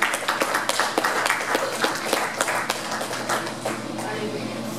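A church congregation at a Pentecostal Spanish-language service claps, a busy run of overlapping claps and taps with a steady hum underneath.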